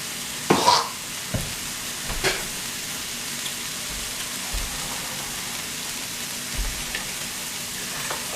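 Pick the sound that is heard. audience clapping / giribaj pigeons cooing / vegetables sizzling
vegetables sizzling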